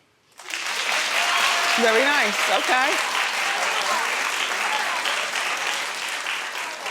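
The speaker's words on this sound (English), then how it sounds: "Clap if you're watching." Studio audience at a daytime talk show breaks into loud, sustained clapping that fills the whole stretch, with a host's voice briefly heard over it.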